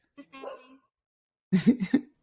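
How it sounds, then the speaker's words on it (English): A dog gives a quick burst of three or four close, sharp barks, after a short stretch of softer vocal sound. "Oh, the dog has a lot to say."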